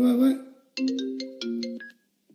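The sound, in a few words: phone ringtone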